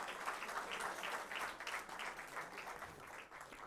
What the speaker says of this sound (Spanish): recibamos con un fuerte aplauso a la doctora Cecilia Vera de Gálvez